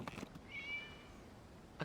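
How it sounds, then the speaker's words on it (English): A cat in the Genshin Impact video game gives a single short, clear meow midway through, alone against quiet background with faint soft knocks. "It was just a cat."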